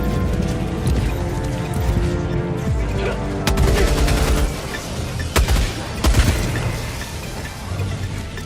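A heavy machine gun fires in a video game in sustained rapid bursts with sharp cracks and booms, loud and dense over a rumbling background, with faint distant effects mixed in.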